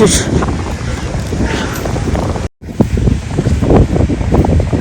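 Ocean waves and gusty wind at a beach make a loud, continuous rush with heavy buffeting on the microphone, a brief dropout in the middle, and voices talking under the noise.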